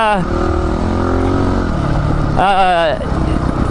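A dual sport motorcycle engine runs loud and steady in too low a gear, droning with a high, strained pitch that rises briefly. A rider talks continuously over the engine and wind.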